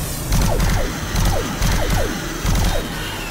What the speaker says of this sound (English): God, I like this gun. Just the sound of it is brilliant.